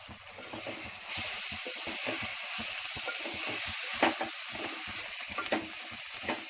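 Coriander and a spice mix roast in a hot pan, giving a steady close sizzle and hiss with soft scraping stirs and a few sharper crackles, and no talk.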